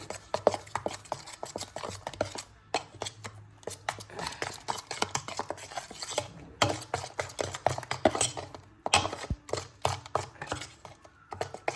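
Salt and garam masala are mixed into a brinjal palya in a pan, with quick, irregular scraping and clinking from a spoon against metal, close and steady with brief pauses.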